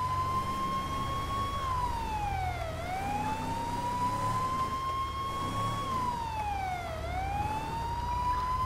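A police siren wails continuously in GTA V, its pitch sliding up and down in slow sweeps over a steady low engine rumble.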